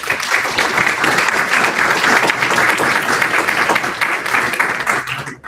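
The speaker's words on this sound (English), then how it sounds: "I'd love to give our panelists a warm welcome and a round of applause" Audience at a Hill briefing bursts into sustained, dense applause welcoming panelists, loud and steady for several seconds before quickly tapering off.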